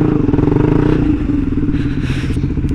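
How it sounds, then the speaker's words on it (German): A KTM Duke 125 motorcycle rides through city streets, its loud, steady engine note droning close to the microphone with rattling clatter and brief rising revs, no talk over it. "die Duke 125. Als Stadtmotorradl kann man sie auf jeden Fall fahren."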